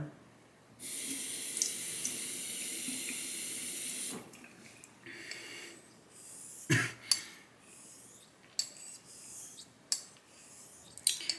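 Water runs from a tap for a few seconds during straight razor honing on a Chinese natural hone. A steady splash is followed by quieter scraping, clicks and a sharp knock.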